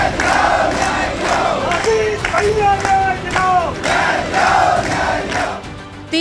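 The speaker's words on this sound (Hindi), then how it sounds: "नारेबाजी कर रही है" Crowd of protesting OBC teacher candidates gathered outside a minister's house in Uttar Pradesh, loud mass voices and rhythmic shouts of slogans rising and falling continuously, close and dense with overlapping cries.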